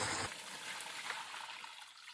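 Transplant tray dip mix pours into a plastic cement mixing pan sized for a 1020 greenhouse tray, a steady close hiss of liquid splashing and trickling for about two seconds, then tapering off.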